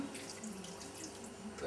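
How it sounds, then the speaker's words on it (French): Water poured into a cooking pot in a home kitchen while a vol-au-vent filling with mushrooms is being made, a quiet, steady splashing stream that runs continuously with no speech. "Je rajoute mon demi-litre d'eau quand même."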